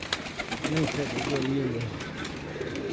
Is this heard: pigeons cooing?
yes